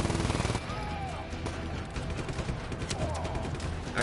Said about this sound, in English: Got my twin machine guns.